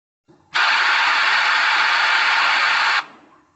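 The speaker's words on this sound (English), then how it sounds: "The corresponding area is converted to white noise." Audacity-generated white noise replaces part of a song, a loud, flat hiss that cuts in abruptly, holds steady for about two and a half seconds, then stops just as sharply, with a faint tail.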